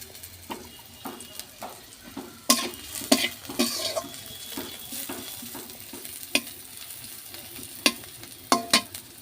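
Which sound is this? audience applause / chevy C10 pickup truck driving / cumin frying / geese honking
cumin frying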